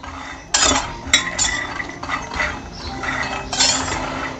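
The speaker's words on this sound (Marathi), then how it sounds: "आता आपण शेंगदाणे भाजून घेऊ" Peanuts being dry-roasted and stirred in a kadhai over a low gas flame, with a spoon scraping and clinking against the metal pan in a few bursts of rattling, close and clear with no talking.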